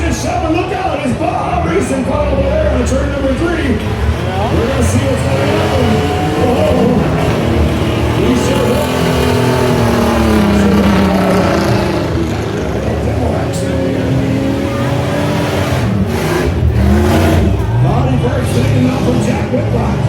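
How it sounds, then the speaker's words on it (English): Baja race trucks roar around a county fair dirt track in Warren, Minnesota, with engines revving and rising and falling as they pass, under continuous announcer commentary and crowd noise. "It's Baja racing car over there in turn number 3."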